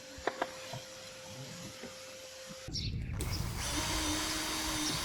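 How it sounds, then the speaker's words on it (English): A quiet hum with a few light taps gives way to a power drill's steady whirring as it drills pilot holes for vent screws in a van, for the last couple of seconds, close by. "Here I'm busy drilling pilot holes for the screws on the vent"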